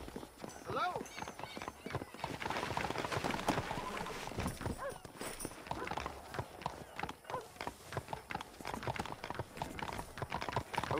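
Horse hooves clip-clop in the Red Dead Redemption video game, a steady trotting rhythm mixed with occasional whinnies and game ambience, sitting under nearly continuous talk from characters.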